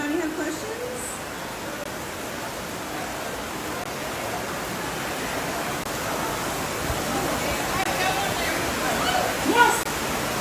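Steady rain pours down at an outdoor fan convention panel at a Superman celebration, a dense, even hiss of falling water that fills the whole stretch, with faint voices and crowd sounds beneath it.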